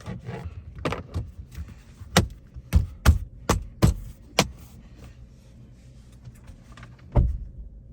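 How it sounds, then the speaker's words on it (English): Interior trim panels on a 2023-or-later Lexus RX being pressed back into place, a series of sharp plastic snaps and knocks close by, several in quick rhythm and then a lone final click after a pause. "Then you can take your two trim panels and reinstall them."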